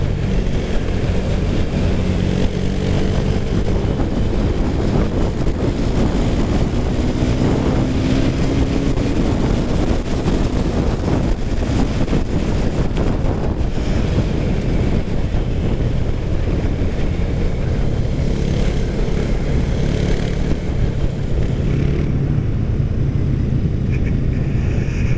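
A 2017 KTM 390 Duke single-cylinder motorcycle is ridden hard at full throttle, heard onboard with a continuous loud engine roar buried under heavy wind rush, with shifts and varying revs across the run.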